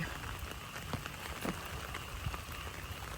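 Steady, dense heavy rain pours down on a flooded rice field in Laos, a continuous hiss of drops striking a surface with occasional louder splashes, no voices.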